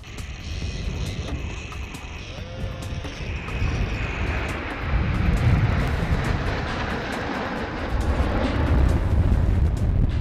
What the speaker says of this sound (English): the next formation is the light combat aircraft Tejas from your left